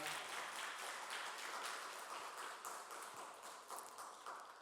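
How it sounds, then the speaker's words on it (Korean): A church congregation applauds during a Sunday service, a faint, distant, continuous patter of many hands clapping for several seconds. "다시 한번 더 축하의 박수 해주시기 바랍니다."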